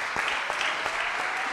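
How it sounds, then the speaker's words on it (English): Steady crowd clapping at an Easter cantata in church, welcoming a young performer named Mumbi to the front, even rhythmic claps blending into a dense wash at middle distance. "Clap for her as she comes"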